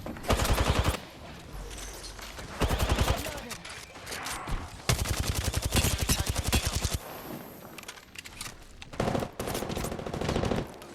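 Rapid automatic gunfire in the battle royale game Apex Legends, several loud bursts of shots separated by short gaps, with game sounds and a voice in between.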